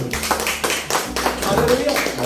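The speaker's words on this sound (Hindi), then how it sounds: "जोरदार तालियां जिंदा खुदा की" Church congregation at a worship service clapping in a loud, rhythmic beat, repeated claps running under a speaking voice and low musical accompaniment.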